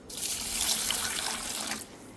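Tap water runs steadily into a bowl of sticky rice for washing, a broad close splash lasting about two seconds before cutting off, with no talking.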